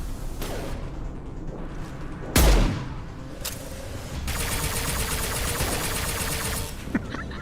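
A single loud, heavy sniper shot from a high-impact round in Mass Effect 2 cracks out sharply amid game ambience, followed later by a sustained hissing, whooshing texture; another voice speaks only faintly in the background.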